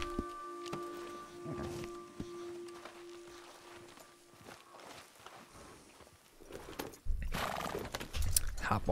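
Rhythmic horse hooves clip-clop at a walking pace in Red Dead Online, with the horse snorting or whinnying near the end, close and fairly loud.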